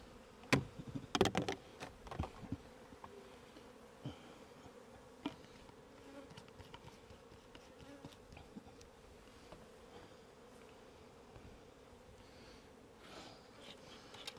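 Honey bees buzz around an open hive during mid-July mite checks, a faint, continuous drone with scattered nearer passes and some sharp knocks and clicks early on, no talking.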